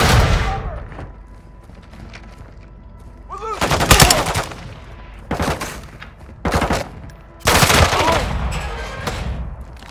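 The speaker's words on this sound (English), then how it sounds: "I'm taking fire!" Video game gunfire aimed at the player, loud sharp bursts of automatic shots in several separate volleys with short gaps, close, with scattered game voices between.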